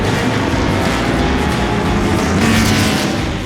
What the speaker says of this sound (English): Our BMW M1 Group 4 is now racing with our driver Peter Oberndorfer